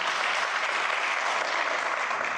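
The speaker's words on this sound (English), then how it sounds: "I would like a great round of applause again for Mr. Arbaz Khan." A seated audience at a live televised interview event claps steadily, a dense, even wash of applause holding at full strength throughout with no talk over it.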